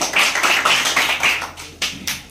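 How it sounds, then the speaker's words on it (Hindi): A classroom group claps in a quick, uneven burst of sharp hand claps that thins out into a few scattered final claps. "इनके लिए भी ताली बजाइए"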